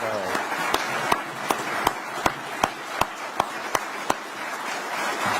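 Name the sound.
applause for the Alabama Broadband Division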